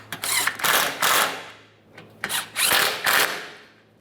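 A power tool tightens the water pump mounting bolts under a 2015-2019 Subaru Outback with the 2.5L H4 engine, running in four short, close whirring bursts with brief pauses between them.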